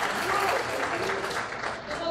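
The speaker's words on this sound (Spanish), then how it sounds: "fuerte aplauso, por favor." Audience clapping after a children's ballet performance of Isadora Duncan in Comitán, Chiapas, a steady dense wash of applause filling the room for a couple of seconds, fairly distant and even.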